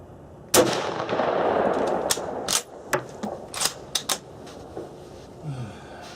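A scoped Mosin rifle fires a single sharp, loud shot with a decaying outdoor tail, followed by a series of crisp metallic clicks and clacks from working the bolt.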